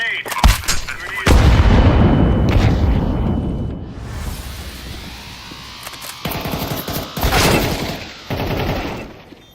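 Grenade and incendiary blasts in Counter-Strike 2, with loud booming explosions, a roaring burn and bursts of gunfire, while a voice speaks briefly in between.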